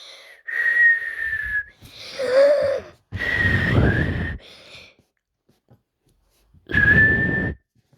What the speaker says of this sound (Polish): Próbuję gwizdać.